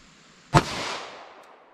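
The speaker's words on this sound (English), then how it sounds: "first up we have our 9mm rated at 1165 feet per second." One sharp 9mm pistol shot from a 5-inch barrel, loaded with Sig V-Crown ammunition, cracks close by and then rings out in a fading echo.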